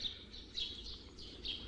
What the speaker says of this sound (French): Ils commencent à me taper sur le système, ces oiseaux